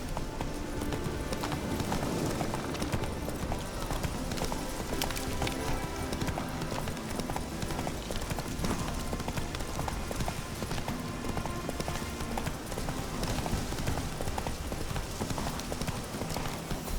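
Steady hoofbeats of the horse Roach trotting along in The Witcher 3: Hearts of Stone, a continuous even clip-clop at moderate distance, running throughout without a break.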